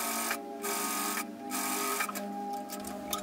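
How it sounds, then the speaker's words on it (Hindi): A sewing machine stitches kurti fabric in close, loud bursts of rapid whirring, broken by a couple of short pauses and ending with a few quick stitches. "बस इसको बिल्कुल सिलाई करते जाना है यहाँ पर इस प्रकार से"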